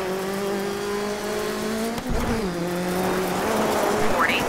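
Rally car racing in the Dirt 3 video game: a revving engine drones steadily, shifts pitch and climbs again, with tire noise and a rising whine near the end, loud and close.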